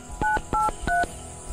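Three short telephone keypad dialing tones beep one after another in quick, even succession, clear and isolated against a quiet background.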